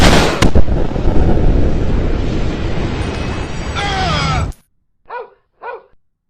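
Counter-Strike video game gunfire roars in a dense, loud burst of shots and blasts for about four seconds, then cuts off. Two brief voiced yelps follow in the silence.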